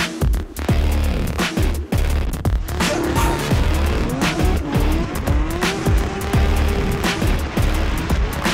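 A drift car at a motorsport event skids with long squealing tires over a revving engine, the screech rising and falling as the car slides through turns, loud and close for several seconds.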